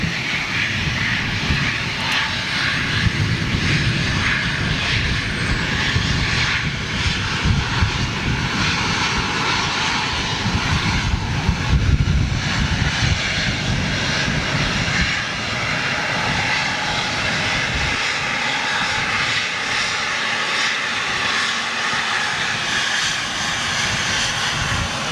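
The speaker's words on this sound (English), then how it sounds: "Oh, look at this. TUI Dreamliner." A TUI Dreamliner jet airliner departs outbound at Manchester Airport, its engines producing a steady, loud, broadband roar that holds for about twenty-five seconds with slight swells and no voices.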